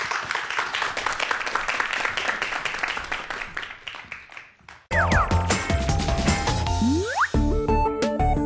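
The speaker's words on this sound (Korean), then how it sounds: "박수로 2부 강연 청해 듣겠습니다" An audience at a math-education lecture claps in a dense, steady burst of applause that slowly thins and fades, then music abruptly takes over.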